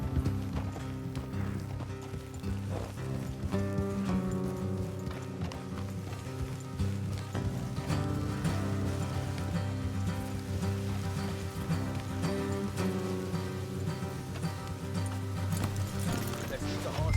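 Horses gallop through a Red Dead Redemption 2 game scene, their hooves a steady rhythmic clip-clop throughout, under music and voices.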